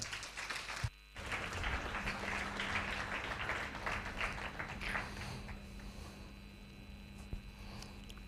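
Audience applause welcomes Rishikesh Kanan to a talk, a steady patter of many hands clapping that holds at an even level after a brief dip near the start.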